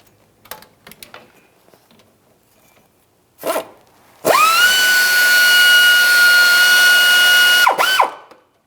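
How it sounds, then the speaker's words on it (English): A 15mm wrench works loose the steering shaft pinch bolt on a 2002-2009 Chevrolet Trailblazer: a few faint clicks and a short rasp, then a loud, steady buzzing ratchet run of about three seconds that stops abruptly. "We'll use a 15mm to remove this bolt."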